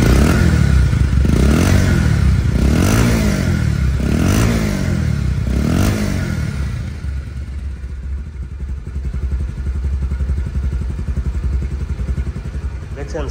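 A second-hand 2020 Bajaj Pulsar motorcycle engine runs close by, revving in several rhythmic surges before settling into a steady, smooth idle rumble.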